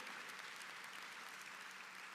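Audience applause at a university fall convocation: a steady, dense wash of many hands clapping, evenly sustained throughout at moderate level with no voices standing out.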